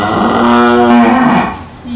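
A cow lets out one loud, drawn-out moo close by, a sustained tonal low that fades off near the end, with a quieter voice faintly in the background.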